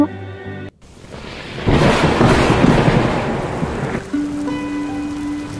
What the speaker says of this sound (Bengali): হঠাৎ করে এত বৃষ্টি হচ্ছে, আমাদের পুকুরটা ভেসে না যায়